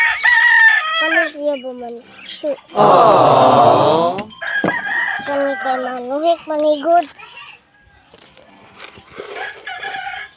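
A rooster crows once, loud and close, mid-clip between stretches of a person talking, with brief clucking-like bird sounds around the voice.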